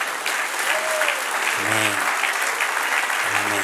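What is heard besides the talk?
audience applause in church service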